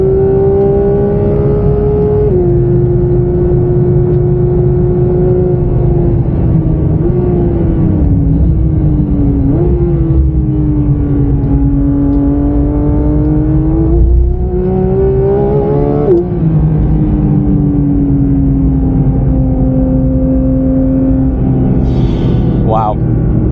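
A Porsche 992 GT3 engine hums and revs up and down in long sweeps, loud and close, with a deep rumble underneath and no clear talking over it.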